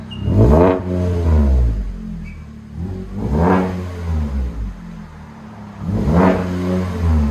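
A 2022 Chevy Colorado with a 3.6L V6 and a MagnaFlow MagnaPack exhaust revs three times, each rise swelling into a loud, close, throaty roar and falling back to idle between pulls.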